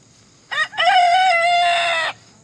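A single rooster crow, loud and close, opening with a short note and then a long drawn-out call lasting about a second and a half.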